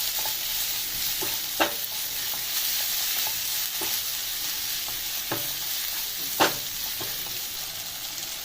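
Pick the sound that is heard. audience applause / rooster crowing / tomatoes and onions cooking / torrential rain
tomatoes and onions cooking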